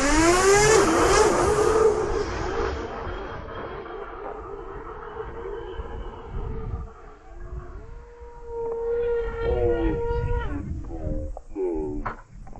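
Motors of a Titan Dynamics Tornado V2 drone spooling up under autopilot throttle: a loud rising whine and rushing roar that wavers and surges, with pitch sweeping up and down as the motors strain, no talk.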